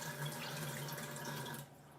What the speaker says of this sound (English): I'm gonna go ahead and start by washing my vegetables.